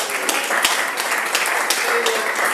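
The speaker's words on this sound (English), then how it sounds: "If you'd like to do a big round of applause for them." A room of people at a chapter anniversary meeting applauds, steady even clapping filling the whole stretch with a few sharper individual claps.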